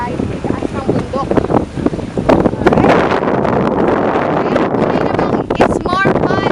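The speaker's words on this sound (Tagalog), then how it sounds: "grabe ang sarap ng hangin dito sa taas" Strong wind on a mountain top buffets the microphone with a constant loud roar and rustle, continuous throughout, with faint voices underneath.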